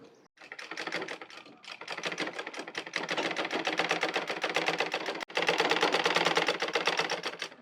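A sewing machine stitching a blouse at a village tailoring table gives a fast, steady mechanical clatter of close, even ticks that runs almost continuously, broken by one brief pause near the end.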